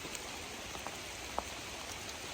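Heavy rain comes down again on the Appalachian Trail near Peters Mountain as a steady, moderate hiss, broken by a few sharper drops striking nearby, with no one speaking.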